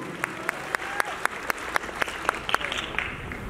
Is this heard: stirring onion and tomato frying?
no